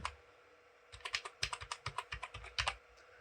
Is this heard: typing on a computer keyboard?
yes